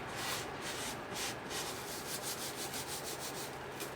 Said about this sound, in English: if it's too coarse, you can run it through another screen or just run it with your hands